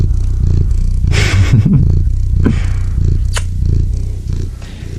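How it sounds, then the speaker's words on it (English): A domestic cat purrs close to the microphone, a steady low rumble running through the whole stretch, with a few soft clattering handling noises partway through and no talking. "Can you purr into the microphone?"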